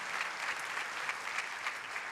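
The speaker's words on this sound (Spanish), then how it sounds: "Dale mejor aplauso al Rey de Reyes y Señor de Señores." A church congregation applauds steadily, a dense wash of many hands clapping at even strength for about two seconds, with no voices rising above it.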